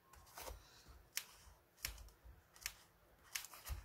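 Scissors snip scraps of paper while a candle box is decorated for scrapbooking: a handful of quiet, crisp cuts spaced irregularly, close by and alone.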